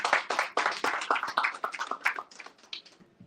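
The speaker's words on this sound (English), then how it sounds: "please give a round of applause to Darius Odom" An audience applauds to welcome a guest to a conversation, a dense burst of many hands clapping that starts strong and gradually thins and fades over a few seconds.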